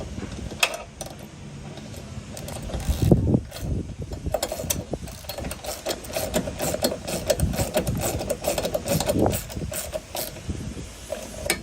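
Hand tools snugging bolts while fitting an Ekko cab step: a 9/16 open-ended wrench and a 7/32 Allen driver produce repeated close metallic clicks, ratchety scrapes and clanks in uneven bursts, with a brief louder knock near the start.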